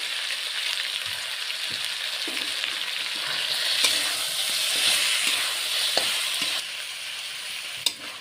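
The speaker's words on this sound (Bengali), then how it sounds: "ভালো করে ভেজে নিতে লাগবে।" Ground cumin, coriander and chili powder frying in oil for a country chicken curry, a steady close sizzle with occasional stirring scrapes and a few sharp clinks of a utensil against the pan.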